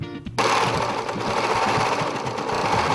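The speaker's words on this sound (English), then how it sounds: "Now you're going to sew the hood together." A sewing machine runs steadily while stitching together the curved seam of a hoodie hood. The motor starts abruptly after a short pause and hums on loud and close without a break, and no one talks over it.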